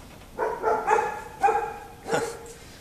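Dogs bark at home in four loud, close bursts spaced about half a second apart, with no talking over them.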